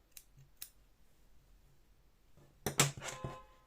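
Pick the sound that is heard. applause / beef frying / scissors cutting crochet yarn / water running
scissors cutting crochet yarn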